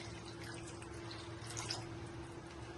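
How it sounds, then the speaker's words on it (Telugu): Water is poured into a pot of Nellore-style tamarind fish curry, a steady soft trickle running close and alone for a few seconds, with a low background hum. "ఈ వాటర్ కూడా పోసేయండి."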